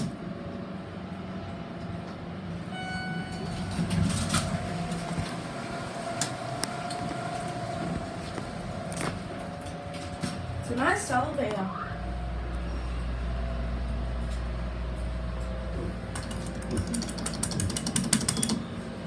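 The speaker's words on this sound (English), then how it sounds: "Nice elevator." A store elevator in New York City hums and rattles steadily, with mechanical whirring and a brief squeal midway, a low rumble building later, and people talking faintly over it.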